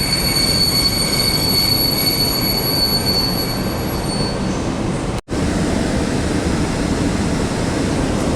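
An EP09 electric locomotive train rolls steadily past at close range, a loud continuous rumble of wheels on rails with a high squeal fading partway through.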